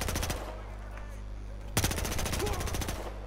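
A submachine gun in the shooter game Battlefield Hardline fires rapid, evenly spaced automatic bursts, loud and close, broken by a short pause before a second sustained burst.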